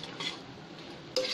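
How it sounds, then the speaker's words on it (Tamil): A spoon stirs vegetable biryani ingredients in a cooking pot before water and rice are added, a steady close scraping and sizzling swirl with a brighter clink of metal near the end. "நல்லா கிண்டிடலாம்"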